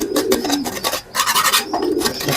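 Domestic pigeons coo in a loft, several low throaty calls running on and off across the stretch, fairly close with a busy room background.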